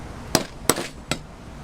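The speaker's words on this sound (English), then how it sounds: "you're just gonna give it a tap with the hammer" A hammer strikes a chisel against a metal workpiece while shaping a metal gauntlet, giving three sharp, close metallic taps spaced roughly evenly apart.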